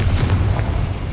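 A boiler blown apart by the Confringo blasting spell in the Hogwarts Legacy video game lets out a short, deep, rumbling blast that fills the whole moment.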